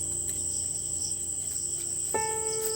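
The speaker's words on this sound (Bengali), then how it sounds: "আর ঝিঝি পোকার ডাক কিন্তু আমার বেশ লাগে।" Crickets chirping on a quiet village evening, a continuous high shrill drone with a second insect trill joining near the end, no voices.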